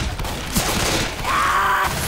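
Gunfire rattles in a Left 4 Dead 2 zombie shooter match, a burst of rapid shots heard amid constant game noise and chatter-free action, fairly loud and close.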